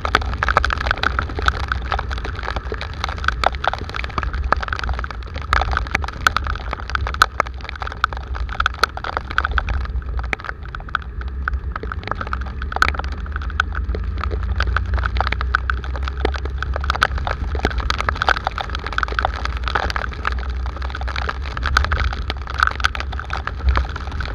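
Steady, dense rain pours continuously in Samambaia, a heavy wash of noise with a low rumble underneath and scattered sharp drops or splashes throughout, no speech.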